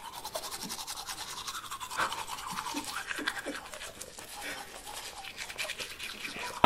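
A toothbrush scrubs a tongue in quick, rhythmic close-up strokes, with faint voices in the background.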